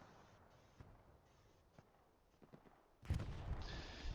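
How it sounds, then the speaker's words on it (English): Distant artillery shelling in the World War II shooter Hell Let Loose, scattered faint thumps and cracks at first, then a louder sustained burst of explosions near the end. "Shelling the point."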